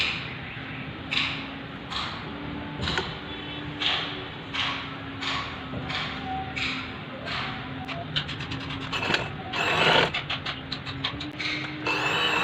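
A sewing machine stitches the side plates of a child's designer frock in repeated short runs of rapid stitching, broken by pauses and fabric handling, close by and moderately loud.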